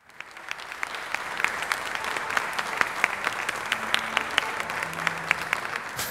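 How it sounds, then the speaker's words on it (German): Steady audience applause fills a stage interview setting, dense even clapping building quickly and holding at a constant level with a few sharper individual claps standing out. "Klatsch mal für Cess"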